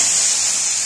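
Chopped tomato hits hot oil already holding cumin and bay leaf, giving a close, steady hiss of frying that stays loud and unbroken throughout.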